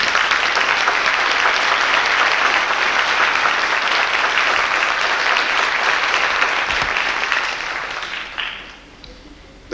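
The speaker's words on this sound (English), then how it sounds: "we're going to give her a round of applause" Sustained, dense applause from a large audience fills a 1993 graduation and pass-in-review ceremony, loud and steady before tapering off near the end.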